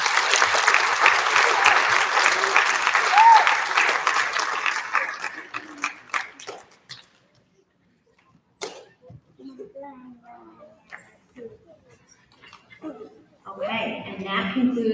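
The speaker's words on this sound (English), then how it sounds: "let's give them a big round of applause" An elementary school audience claps and applauds for students at a recognition ceremony, with loud sustained clapping that fades out after about six seconds, followed by scattered sounds and quiet voices.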